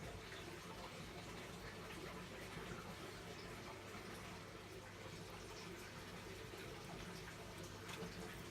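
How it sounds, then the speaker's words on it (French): Water poured from a carafe into a container on a farm, a continuous broadband rushing and trickling fill, steady and moderately close with no talking over it. "je vais remplir avec ma carafe d'eau"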